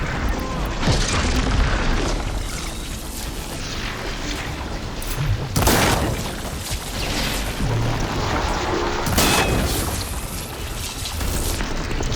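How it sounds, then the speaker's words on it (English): Explosions in the video game Horizon Forbidden West, several heavy booms with rumbling impacts across the stretch, loud and close, mixed with game sounds and some talking. "It's gonna explode."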